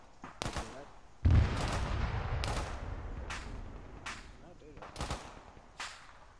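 Gunfire in a military video game, sharp single shots spaced irregularly over several seconds, one heavy boom early on, with brief voice chatter beneath.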